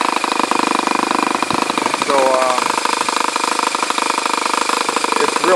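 An OS model airplane engine in an EAA Biplane runs rich during break-in, a loud, steady buzzing drone with a rough rhythmic rattle throughout, and a voice talks over it.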